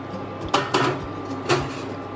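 A whole chicken being put into a metal steamer pot for steamed lime-leaf chicken: a few sharp metallic clinks and clatters of pot and lid against a steady kitchen hum, close and moderately loud.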